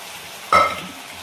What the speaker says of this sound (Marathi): आणि छान हलवून घ्यायचे।